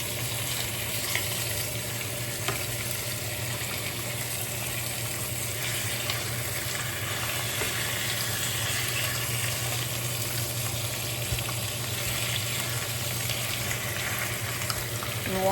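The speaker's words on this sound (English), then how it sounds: "I'm just going to pan fry it really quick just to get it some color." Big pieces of fish pan frying for tomato fish soup, a steady close sizzle and crackle of hot oil running continuously with no pauses.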